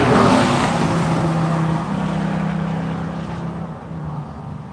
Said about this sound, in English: Next, we ought to be seeing the Boss 302, and then finally Steve Rossini in his BMW.